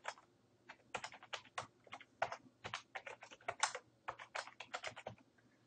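Fingers type an email address and password on a computer keyboard, giving a quick, irregular run of crisp key clicks, close and clear, with no talk.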